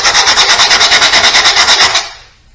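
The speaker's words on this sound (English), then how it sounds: "take a wire brush or a wire wheel on a drill" A wire wheel spun by a drill scrapes old foam off fabric on an Mk3 Jetta VR6, a loud, steady rapid rasping with a fast pulsing rhythm that runs for two seconds, then cuts off abruptly and fades.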